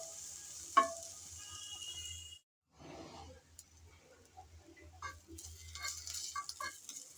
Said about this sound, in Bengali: কিছুক্ষণ সময় ধরে আমি রসুন আর পেঁয়াজ ভেজে নিলাম।